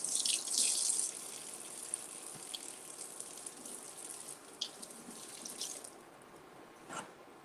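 Tap water runs into a sink as an eggplant is rinsed, a loud gush in the first second easing into a steady softer flow with scattered splashes and drips, no talking.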